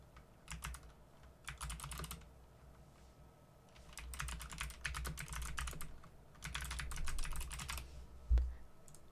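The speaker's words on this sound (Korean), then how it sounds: "텍스트를 입력했고요" Typing on a computer keyboard, close and fairly quiet, arriving in several short bursts of rapid clicking separated by pauses, with a low background hum and one thump near the end.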